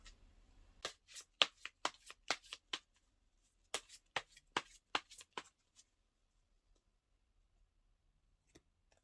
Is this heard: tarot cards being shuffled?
yes